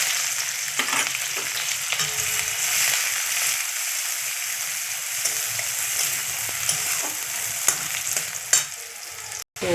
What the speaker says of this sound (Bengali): পেঁয়াজ কুচনোটা দিয়ে দিলাম